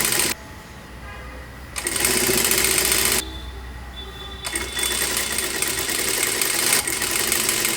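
Sewing machine stitching piping onto a four-dart blouse, running in steady bursts of rapid whirring stitches with brief pauses and changes in speed, close and fairly loud with no talking.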